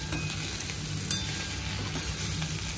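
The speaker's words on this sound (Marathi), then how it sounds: "पुन्हा व्यवस्थित मिक्स करून घेणार आहोत" Food being stirred in a pan right after a pinch of salt goes in, with a steady low sizzle and soft scraping throughout and a faint clink of the utensil near the middle.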